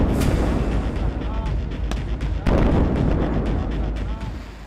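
Israeli missile strikes hitting Lebanon in daylight: a dense, rumbling barrage of heavy booms and sharp blasts, loud and continuous, with several distinct impacts cutting through the roar.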